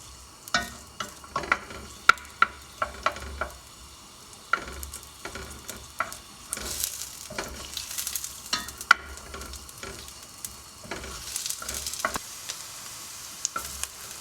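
Garlic and onion sizzle in hot oil in a sauté pan, giving a soft steady fry broken by repeated sharp clicks and scrapes of stirring, fairly quiet with no voices.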